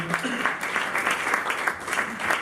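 An audience at a Conegliano Valdobbiadene event applauds a video contribution, a close, even stretch of many hands clapping that fills the clip without pause.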